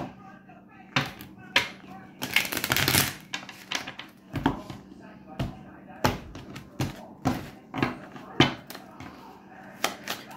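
Tarot cards being shuffled, a run of soft irregular slaps and riffling taps of fairly close cards with a brief louder flurry near the start.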